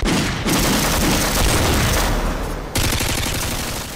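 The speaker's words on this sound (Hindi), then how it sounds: "उसने अपनी राइफल उठाई और अचानक गोलियां चलने लगी" Dense, continuous rifle gunfire crackles loudly for several seconds during a commando raid at Entebbe airport, rapid overlapping shots forming a relentless barrage with no voices.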